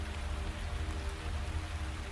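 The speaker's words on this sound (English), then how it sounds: "the sounds of rain and Sam's pain resumed" Steady rain falls continuously at a campsite, a faint, even hiss with no breaks and no voices over it.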